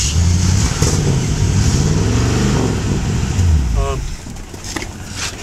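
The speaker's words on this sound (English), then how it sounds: "Car sure runs good." A Mercury coupe's engine running with flathead exhaust through Smitty mufflers, a close, steady low burble that swells and settles, with someone talking over part of it.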